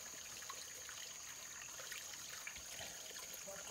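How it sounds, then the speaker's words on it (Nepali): Water seeps and trickles steadily from rocks at a mountain spring, a faint, continuous wet patter with no break and no voices. "यो सबै यसरी ढुङ्गाबाट पानी चुहिएको है"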